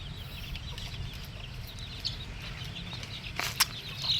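Chickens and small chicks cluck and peep faintly at a distance over steady low background noise, with a brief louder call near the end.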